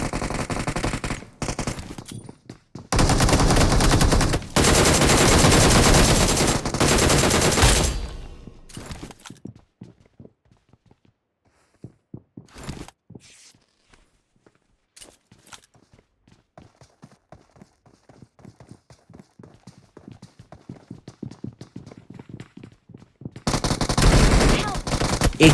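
Gunfire in PUBG Mobile: long loud bursts of automatic fire rattle close by, then a stretch of sparse single shots and clicks, and another heavy burst comes at the end.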